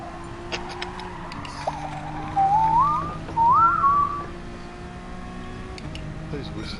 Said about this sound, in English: Who's whistling at the same time calling